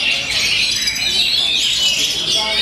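Songbirds sing at a bird song contest: a dense, continuous tangle of high, rapid chirps and trills, loud and close, with a voice faintly underneath.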